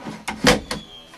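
Large kitchen drawers in a Sequoyah fifth-wheel camper being pulled out, a quick series of three close sliding thumps within about a second.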